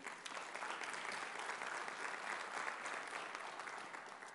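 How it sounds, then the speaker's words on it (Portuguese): A church congregation applauds steadily, a dense wash of clapping hands that holds even throughout at a moderate distance, with no voices standing out. "Aplauda ao Senhor."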